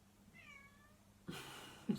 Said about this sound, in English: That's my cat in the background meowing at the door.